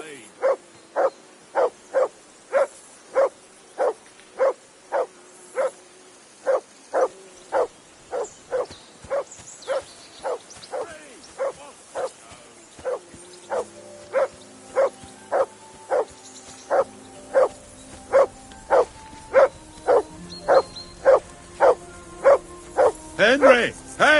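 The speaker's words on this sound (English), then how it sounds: "Call off that mutt of yours!" A dog barks repeatedly in Kingdom Come: Deliverance II, a long steady run of evenly spaced, loud, close barks continuing for many seconds, with a low ambient drone and some muffled background activity underneath.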